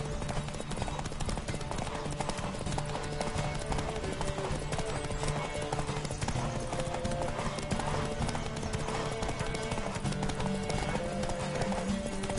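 Hoofbeats of a galloping horse in The Witcher 3 video game, a steady rhythmic clip-clop running throughout beneath game music and ambient sound, with brief voices over it.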